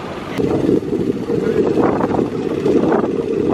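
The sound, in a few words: wind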